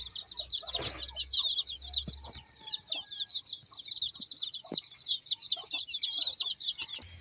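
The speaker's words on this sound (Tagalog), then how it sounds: "Kita mo yung mga sisew." Chickens cluck and chicks peep continuously in a high chattering chorus, with scattered soft knocks and rustles in the background.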